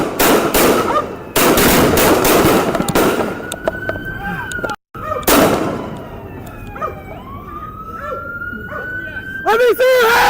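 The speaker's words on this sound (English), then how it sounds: "The officer fired approximately 10 gunshots while the suspect shot" Rapid bursts of loud gunfire crack repeatedly as a police officer and a suspect exchange shots, with shouting voices and a siren wail rising in between.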